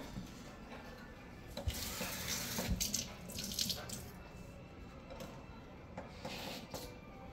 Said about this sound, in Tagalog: Tapos kukuha ako ng tubig dito sa may line na ito.